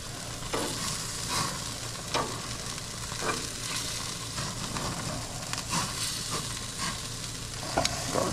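Wagyu beef and pork on a grill, a constant crackling sizzle dotted with irregular pops and a few sharp clicks of turning, close and steady with no talking.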